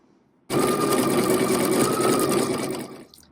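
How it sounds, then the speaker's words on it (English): Sewing machine running steadily as it stitches quilting lines on a pineapple crossbody bag, one continuous close, loud run of about two and a half seconds that cuts off at the end. "you're going to choose your thread color that you would like your quilting done in, and you're going to stitch"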